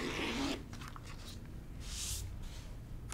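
Cross stitch fabric is cut along a ruler, with a brief rasping cut at the start and another short slice partway through. Both are close and quiet against a faint background.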